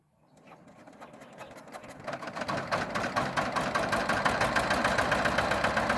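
A new tractor's engine starts up and settles into a steady, rapid chugging that grows louder and rougher, running close by in a farm field with no talk.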